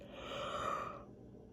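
A single drawn-out breathy yawn, close and soft, fading out near the end.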